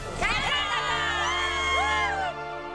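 A crowd at the Rotax Max Challenge Grand Final kart race cheers and whoops loudly, with many overlapping shrill yells and shouts swelling together for a couple of seconds before dropping off.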